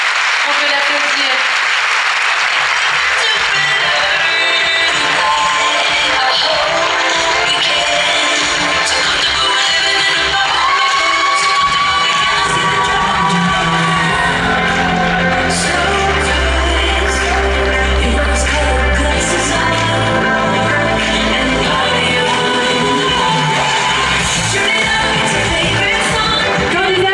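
At the Miss Côte d'Or 2018 pageant, an audience claps and cheers steadily over tonal background music, the applause running throughout as a continuous bright wash under the melody.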